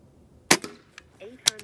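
A Gamo Arrow Classic air rifle fires an 18.13-grain pellet at a 20-yard range: one sharp, loud crack, followed shortly by a second snap, likely the pellet striking the target.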